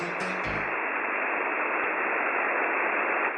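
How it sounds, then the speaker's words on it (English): Steady wideband static hiss from a real radio frequency in Massachusetts tied to Fallout viral marketing codes, filling the whole stretch after a few brief tonal blips at the start. "Some of these codes reference an actual radio frequency in Massachusetts,"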